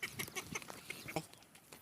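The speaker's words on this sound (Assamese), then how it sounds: "এয়া আমাৰ হাঁহ" Domestic ducks at a village farm quack in a quick run of short, faint calls close together.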